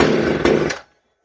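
A McCulloch Pro Mac 610 chainsaw engine gives a single brief pop, a loud, rough burst lasting under a second before cutting to silence.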